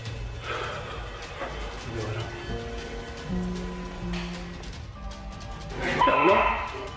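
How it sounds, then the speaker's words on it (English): A dog on alert barks and whimpers in bursts over a steady background hiss, with tonal music or electronic hum running underneath and a louder yelp near the end. "his dog goes on full alert"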